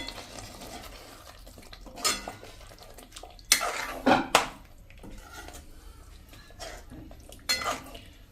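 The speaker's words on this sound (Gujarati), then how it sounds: "હવે આ સ્ટેજે આપણે આ જે બાફેલા બટેટાના પીસ કર્યા છે ને એ નાખી દેશું અને એક સરસ મિક્સ કરી લેશું આપણે" Boiled potato pieces tipped into a pan and mixed with a spoon, a faint sizzle under scattered scraping and clattering knocks of utensil against metal, louder in a few bursts.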